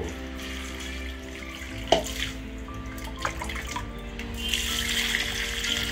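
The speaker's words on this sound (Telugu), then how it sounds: "కొంచెం కొంచెం వాటర్ వేస్తే సరిపోతుంది." Water is poured a little at a time onto potted bamboo plants indoors, a gentle trickling and splashing with a few soft drips and clicks, close and fairly quiet, with no talking.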